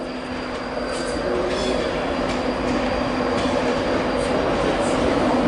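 A London King's Cross to Edinburgh train pulls into Newcastle station on the East Coast Main Line, a loud, steady rumble of rolling stock with wheel noise and faint squeals, no voices.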